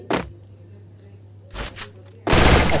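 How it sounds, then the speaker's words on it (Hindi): An MP40 submachine gun fires in a shooting video game, with a short burst at the start, a couple of quick shots midway and a loud sustained volley at the end. "अब मैंने खरीदी है MP40 एक लेजेंडरी गन, और ये बहुत ओपी चलती है"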